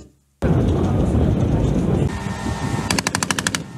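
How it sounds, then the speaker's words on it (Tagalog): The Marine Air Defense Integrated System opens fire in loud, rapid successive shots, first a dense continuous roar of gunfire, then a distinct burst of about nine sharp, evenly spaced reports near the end. "Sunod-sunod na putok ng missile ang pinakawala ng MADIS o Marine Air Defense Integrated System"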